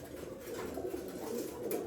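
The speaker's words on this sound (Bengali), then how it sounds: "এই একটা কবুতর এক জোড়া কবুতর" A pair of pigeons cooing nearby, a soft continuous low murmuring coo with no other sounds over it.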